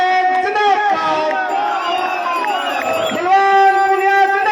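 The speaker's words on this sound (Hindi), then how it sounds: "जोरदार नारों और तालियों के साथ" A crowd at a political rally for a local MLA near Bhadra, Rajasthan, with a loud amplified voice leading slogans over a public address system and cheering voices behind, steady and close throughout.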